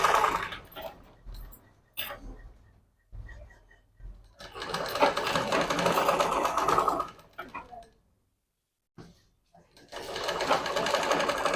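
A domestic sewing machine stitches double piping onto a blouse, its rapid mechanical clatter running in close bursts with brief pauses between runs, a voice talking over parts of it.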